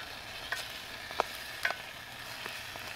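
Stir fry paste sizzling in a hot Bush Box XL, with a steady low frying hiss and a few sharp clicks and scrapes as it is stirred; no talking.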